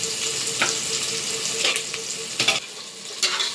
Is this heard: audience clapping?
no